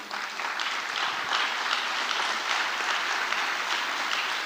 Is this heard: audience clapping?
yes